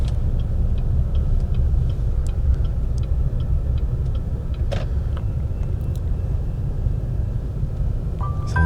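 A Disney Minnie Van minivan rolls through Walt Disney World, its steady road rumble and engine drone filling the cabin continuously, with faint ticking clicks scattered throughout.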